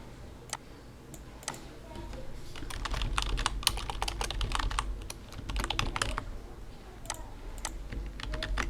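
Quiet typing on a computer keyboard, irregular clusters of soft key clicks up close, with brief pauses between bursts.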